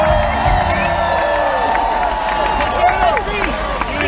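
A concert crowd at a live rock show claps and cheers, with whoops and shouting voices rising over sustained applause, lively and close throughout.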